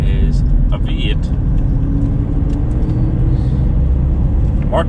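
Ford Mk2 Granada fitted with a 302 5-litre V8 from a Piranha Capri runs with a loud, steady low rumble that fills the clip, with someone talking over it.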